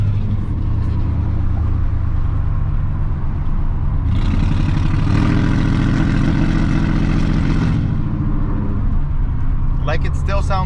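A pickup truck engine at a truck show idles roughly with a deep, uneven rumble that stays loud and close throughout. It swells into a heavier revving surge midway, and someone talks over it.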